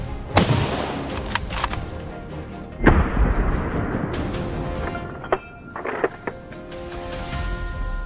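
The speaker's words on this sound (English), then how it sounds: "Boom! The shot rang out, and the boar collapsed instantly down and died" A rifle shot at a wild boar on grassland near forest: several sharp cracks scattered through the clip, the strongest being a heavy boom near the middle, each with a short echo, over a steady outdoor background hum.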